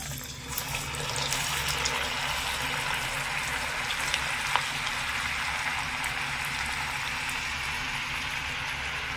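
Semolina boondi droplets frying in medium-hot oil, giving a steady, dense, bubbling sizzle that holds level and fairly close throughout with no talking.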